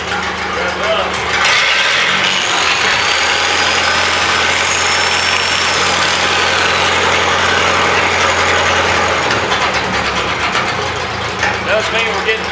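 A Miller Big 40 welder generator engine runs and revs close by while being troubleshot, a rough steady drone with scraping and rasping noise layered over it.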